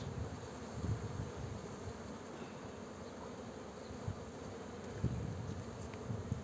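Muğla honey bees hum around an opened hive in April, a continuous soft buzzing swarm with a few louder passes close by and no talking.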